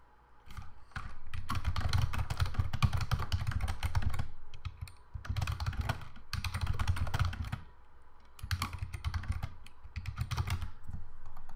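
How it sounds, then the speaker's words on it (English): Someone types steadily on a computer keyboard in several long runs of quick key clicks, separated by short pauses. The sound is close and fairly quiet, with no talking. "I type a clear description in there"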